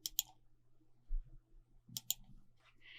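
A computer mouse clicked in Windows drive properties: two quick, close double clicks about two seconds apart, crisp and quiet against a near-silent room.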